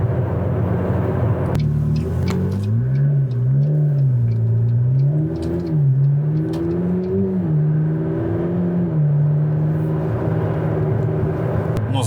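A McLaren 650S Spider supercar with Liberty Walk styling, its engine droning steadily and loud, then rising and falling in pitch as it revs through gentle acceleration, heard alone with no talk.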